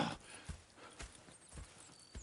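Horses in the Red Dead Redemption 2 video game, with soft clip-clop hoofbeats at a walking pace and a faint neigh, heard fairly quietly against a low background.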